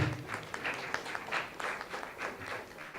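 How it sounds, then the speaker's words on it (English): Steady audience applause at a conference session for the session chair, continuous clapping from a crowd, moderately distant and fairly quiet. "a round of applause for our session chair"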